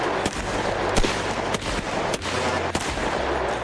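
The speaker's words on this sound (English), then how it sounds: "With gunshots raining down from the hills, Mays takes cover under the wagon" Rapid gunfire rains down from the hills in a Western gunfight, with irregular sharp cracks and bursts of shots echoing over a rumbling background and no voices.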